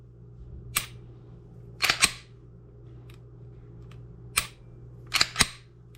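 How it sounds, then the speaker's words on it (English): Pistol trigger clicks on reset from a Smith & Wesson M&P or Walther PPQ .45 ACP, six or so sharp, close, isolated clicks, some in quick pairs, over a low hum. "It's not even a real good click on the reset."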